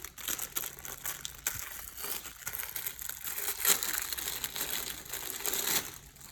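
Plastic IV bag of 0.9% normal saline squeezed by hand, giving repeated crinkling, crackling rustles that swell and fade over several seconds, close and fairly quiet with no talk.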